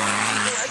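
A Dakar Sprint rally car, driven in its first season in the Dutch championship, roars past at speed in a loud, dense burst of engine and tyre noise that stays steady for under a second, with a voice faintly mixed in.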